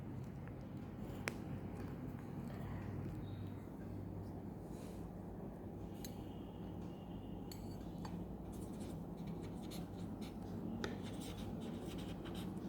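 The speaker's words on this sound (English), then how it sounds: "Let me write down sporophyte, completely parasitic" Handwritten notes scratched out with pen or marker during a biology lesson on liverworts, a steady faint scribbling texture over a constant low background hum, with no talking.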